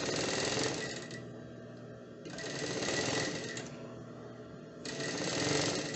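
A sewing machine stitches fabric for a child's romper, making a fast, steady mechanical whir in close bursts separated by brief slower pauses.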